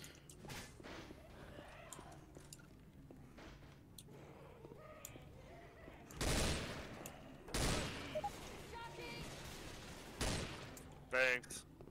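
Bursts of video game gunfire in Left 4 Dead 2, with shotgun and handgun blasts in separate sharp volleys amid quieter background game sounds and players talking.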